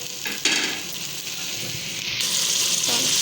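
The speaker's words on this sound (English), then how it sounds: "add 1 cup of water" Water poured into cooking masala for aloo tahari, a steady close hiss of sizzling and splashing liquid that carries on throughout with no voices.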